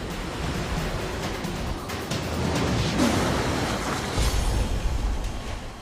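Dense, roaring broadband noise of a stormy sea with hurricane-force gusts up to 144 km/h, like heavy surf and gusting wind, steady and loud throughout with no voices.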